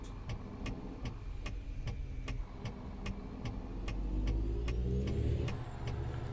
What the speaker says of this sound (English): I'm also running a new engine sound pack